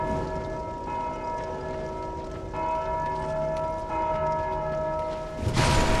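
A bell struck by an enemy in Dark Souls II: Scholar of the First Sin, a series of ringing tolls with long sustained overtones in the game setting, ending in a louder crash.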